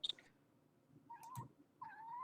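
A cat meows a few times nearby, giving short high chirps and then longer drawn-out mews, with quiet gaps and a soft rustle between them.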